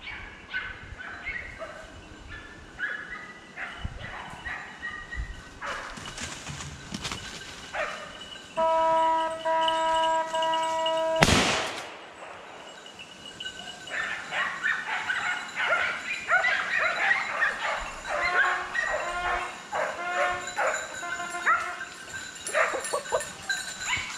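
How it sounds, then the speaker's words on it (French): Hunting dogs on a wild boar drive bark, yip and whimper in scattered bursts, some close and some further off, with a loud sharp burst in the middle and continuing excited yelping through the chase. "Quand il y a beaucoup de chiens derrière un sanglier comme ça, c'est toujours fascinant."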